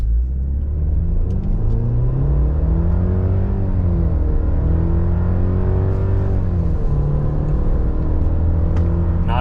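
A Chevy Silverado pickup, 2025 model, pulls away at full throttle from a standstill, its engine note climbing steadily through loud, close, sustained rumbling acceleration with rising harmonic sweeps and gear changes, no voices.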